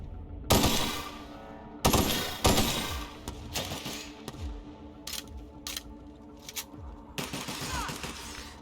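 Sci-fi ray gun firing in The Outer Worlds, loud sharp blasts at irregular intervals, a few quick shots in bursts, over a steady rumbling game ambience, with no talking.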